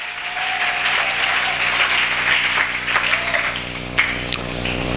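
Applause from a church congregation fills the room with steady, dense clapping for several seconds, with some scattered louder claps and a faint tone underneath.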